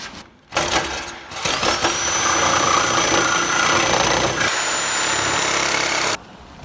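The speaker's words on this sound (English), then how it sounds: "Now we get the sawzall out." A Sawzall reciprocating saw cuts through a plastic fender flare, a loud, close, continuous buzzing rasp lasting several seconds before stopping abruptly.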